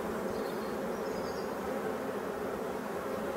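Black honeybees buzz busily around a hive in swarming fever, a continuous dense hum held at an even level throughout.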